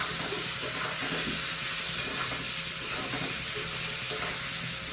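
Ridge gourd stirred in a hot pan for a thin rohu fish curry, giving a steady, dense sizzle of frying with soft scraping stir strokes throughout, close and continuous, with no talking.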